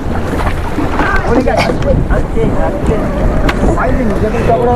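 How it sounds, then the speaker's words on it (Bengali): Choppy river water slaps and churns around a fishing boat after a passing ship, with steady wind buffeting the microphone under darkening stormy skies; the rough wash is continuous and close, and voices talk over it. "জাহাজটা গেল তো প্রচুর ঢেউ হচ্ছে ওই জায়গায়"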